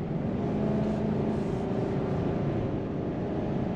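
Harley-Davidson motorcycle accelerating along a short straightaway on a homemade track, a steady, loud engine drone with no voices.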